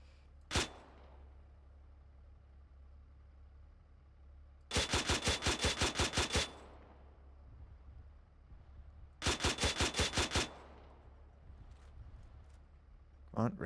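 A vehicle-mounted machine gun fires in the game Antistasi: one lone shot, then two sustained rapid bursts of about a dozen evenly spaced loud rounds each, separated by quieter pauses with a low engine hum underneath.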